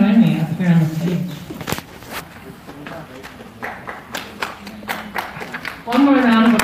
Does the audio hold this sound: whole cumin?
no